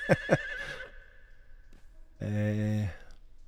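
Horse from the game Conan Exiles gives two sharp whinnies at the start, then a long, loud, rough neigh near the end, with a faint background bed between.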